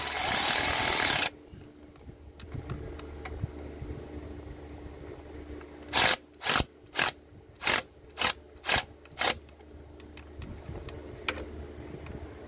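Ratchet wrench tightening the last bolt during clutch installation on a 2010 Toyota Corolla 1.8, heard as a burst of eight quick, loud clicking pulls in an even rhythm after a brief loud noise and a quiet stretch.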